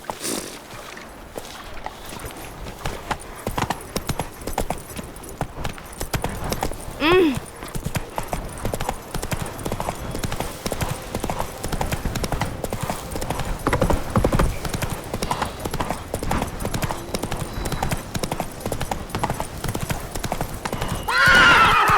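A horse gallops in The Witcher 3 video game, its hooves drumming fast and continuously up close for over twenty seconds, with a brief whinny near the middle and another cry at the end.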